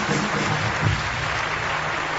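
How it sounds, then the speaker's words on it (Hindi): Steady applause from a crowd, a continuous wash of clapping with no pauses throughout. "बहुत सारी तालियां इनके लिए"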